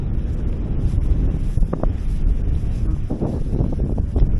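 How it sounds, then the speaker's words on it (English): Strong wind buffets the microphone outdoors at a festival campsite, a loud, rumbling gusty roar throughout with a brief faint voice in the middle. "it's so windy"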